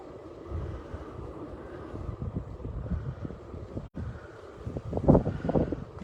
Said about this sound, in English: Okay, the wind's picking up a little bit.